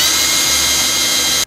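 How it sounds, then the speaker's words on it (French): A loud, steady high-pitched drilling whine from a close 32 mm hole saw cutting into a rainwater tank, running continuously before cutting off abruptly at the end. "trou de diamètre 32 qu'on va faire avec une scie cloche"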